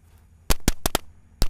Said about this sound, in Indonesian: Sudah menyala mercon tank.